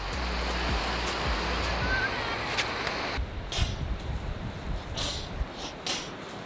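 Sea waves at Downings, Donegal wash in as a broad, steady surf rush, loud at first and easing after a few seconds, with brief wind buffets.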